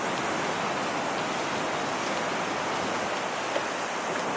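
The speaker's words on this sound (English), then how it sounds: "have a look at some of the waves down here" Stormy sea at Hendon Beach, Sunderland, roars as a dense, unbroken wash of surf and wind, loud and close throughout with no distinct breaks between waves.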